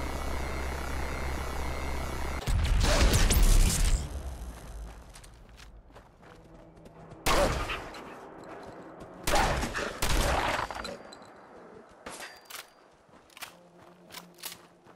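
Bursts of gunfire in Fallout 4, with a missile launcher fired in enclosed spaces: several loud, sharp volleys in clusters separated by quieter stretches, with scattered footsteps and smaller shots between them.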